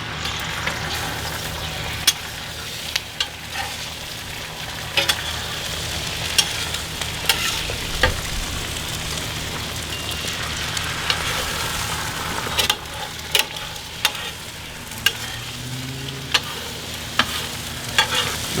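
Whisked eggs cook in sizzling butter in a pan for a chorizo breakfast burrito, giving a continuous close hiss broken by sharp utensil clicks and taps, with no talking.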